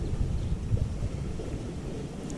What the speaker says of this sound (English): Alright, we're getting a tiny bit more wind.